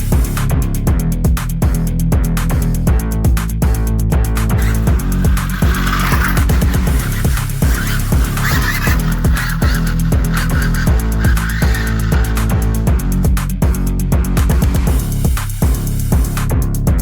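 An Arrma Infraction V2 6S RC car drifts, its motor whining loud and continuous for the whole stretch, with repeated tire scrubbing and squeal bursts over a steady rumble.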